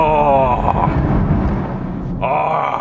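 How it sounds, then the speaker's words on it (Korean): A deep, rumbling exhaust from a BMW X3 M Competition in M mode drones steadily throughout, with a rising tonal whine near the end, heard from inside the moving car in a tunnel with the window slightly down. "배기음 혹시 들으셨어요?"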